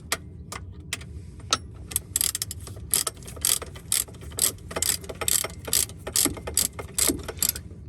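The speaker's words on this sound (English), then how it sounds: "Now the tricky part now is to tighten up all the bolts." A ratchet wrench tightens the bolts on a newly fitted 150A-to-210A upgrade alternator in an Iveco Daily camper van. Close, crisp bursts of rapid clicking repeat in an uneven rhythm, with no talking.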